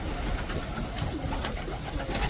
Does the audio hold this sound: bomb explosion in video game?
no